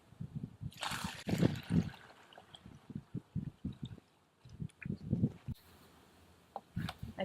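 Liquid anaerobic plant fertilizer tea trickles and splashes as it is poured from one container into another, in several uneven bursts with short pauses, close up and fairly faint.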